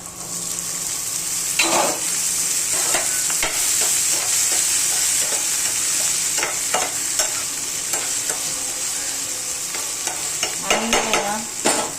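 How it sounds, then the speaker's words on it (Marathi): Tomatoes cook in a pan for vegetable pasta, a loud continuous sizzle broken by repeated scraping and stirring strokes of a spoon against the pan, with no talking. "आणि आता याच्यामध्ये टोमॅटो टाकायचा हा."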